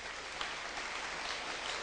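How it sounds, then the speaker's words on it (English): Seminar audience on fish production clapping together, a steady, even wash of applause that stays at one level throughout, heard from within the room, with no voices over it. "Can we clap for Jesus for that?"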